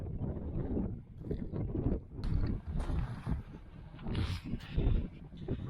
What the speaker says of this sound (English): What a windy son of a gun this afternoon.